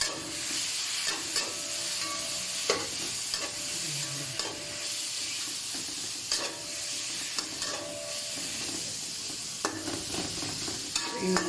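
Taro leaves for laing are being sautéed in a pan with a steady sizzle and repeated stirring scrapes and clinks of a spatula against the pan, close and continuous, with no talking.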